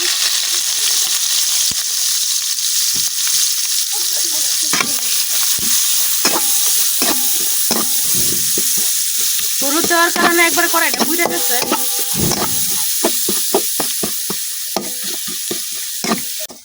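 Chopped onion and green chilli fry in a pan alongside pointed gourd, with a loud close sizzle, repeated metallic spatula scrapes and clinks, and someone talking over the cooking.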